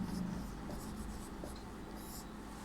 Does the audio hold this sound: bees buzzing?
no